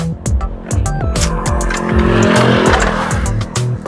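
A vehicle revs and pulls away loudly and close by, the engine note rising and dropping in repeated gear-like sweeps, with a hint of tire squeal over continuous road noise.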